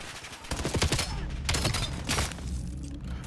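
Assault rifle fire in Call of Duty Black Ops 7, with several rapid bursts of close gunshots in quick succession and short gaps between them, mixed with game sound effects.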